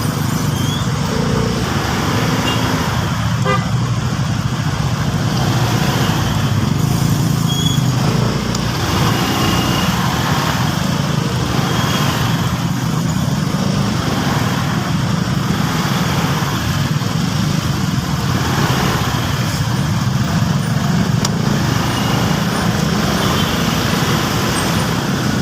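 Dense road traffic at a stoplight, a continuous rumbling wash of idling and creeping cars, buses and trucks heard from close by, steady and unbroken with no talk.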